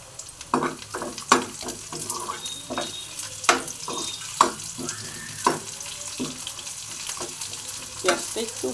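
Cumin seeds dropped into hot oil give off a crackling sizzle, punctuated by a run of sharp irregular spatters and scrapes of stirring, close by, with no one speaking.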